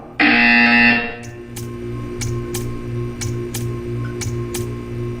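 A loud electronic buzzer sounds sharply for about a second, then a steady hum continues with a series of faint, regular clicks or ticks.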